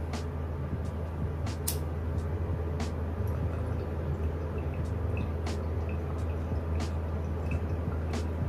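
Water bubbling in a glass beaker bong during a hit, a steady low gurgling rumble with scattered clicks and pops, close and continuous with no talk.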